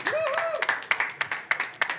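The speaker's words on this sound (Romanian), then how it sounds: "Aplauze!" Scattered, distinct claps from a small studio audience on a Romanian entertainment show, arriving in an uneven rhythm while someone speaks over them.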